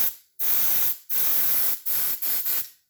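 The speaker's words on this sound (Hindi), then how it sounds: "ये बिल्कुल इसको जब मैं प्रेस करूँगा तो आप देखिएगा इसमें हवा की आवाज़ आएगी" Air bursts from the valve of a pressurized expansion tank when it is pressed, in four loud, close, broadband hisses of uneven length separated by short silences.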